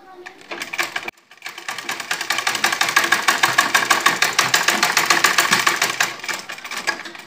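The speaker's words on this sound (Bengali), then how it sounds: "এই যে নিচ দিকে দিয়ে এভাবে সেলাই করে নেব" Sewing machine stitching the hem of kameez fabric, a loud, steady rapid needle rattle that runs almost continuously after a brief pause near the start.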